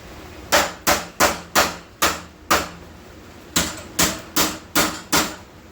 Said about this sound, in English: we're just going to work it over with a body hammer